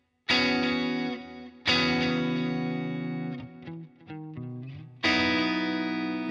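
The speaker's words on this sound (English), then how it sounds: "there's a delay there, and there's a reverb there" Guitar music played through delay and reverb effects in an 80s-style modulation setup, with sustained distorted chords, a busy run of notes, then a loud chord ringing out again with echoing tails.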